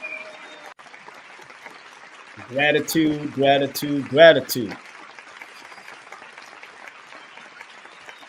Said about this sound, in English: Let me give her another well-deserved round of applause.